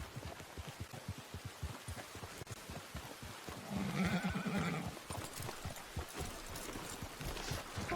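A horse in the Red Dead Online video game gives a clear whinny in the middle of the stretch over a steady run of hoof clip-clops, with ambient outdoor noise throughout.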